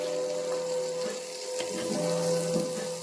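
Butter sizzling steadily under a cereal pancake frying in a skillet, a soft continuous crackle with a brief clatter as the pancake is flipped.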